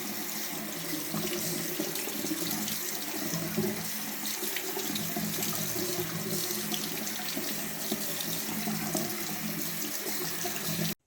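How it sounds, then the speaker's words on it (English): A sink tap runs water steadily over a silver coin being rinsed after a cleaning dip, giving a continuous close splashing hiss that stops abruptly at the end, with no talking. "We're going to take this to the sink and rinse it"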